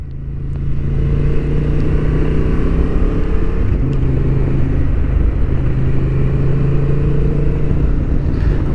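A 2023 Honda XL750 Transalp motorcycle rides along twisty roads, its engine droning loud and steady with a constant low rumble and wind noise throughout, close up and uninterrupted by speech.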